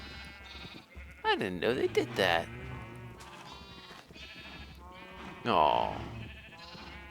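Baby and adult sheep bleat in Minecraft, several wavering cries rising loud and close amid farm ambience, with a person talking between and over the calls.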